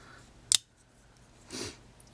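A sharp metallic snap rings out, followed a second later by a softer scraping click, as the small folding scissors on a pocket knife are opened.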